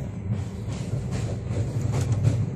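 Steady rumble of a Pune to Kolkata train rolling along the tracks past Bhusaval toward Nagpur Junction, a continuous low roar with faint rhythmic rattling throughout.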